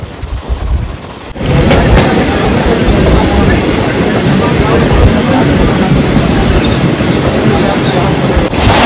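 A Mumbai local train bound for Dadar is heard from inside the carriage: a loud, continuous rumble and wind roar builds after a brief quieter start, with a couple of sharp knocks, and no talking stands out.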